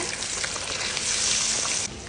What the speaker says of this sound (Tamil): கொஞ்சமாக போட்டு நல்லா பொரிச்சு எடுக்கணும்